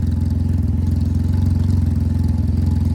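A Can-Am Ryker engine idles steadily through an RLS carbon-series exhaust with the baffle fitted, a close, fairly loud, even low-pitched burble with a rapid regular pulse and no talking.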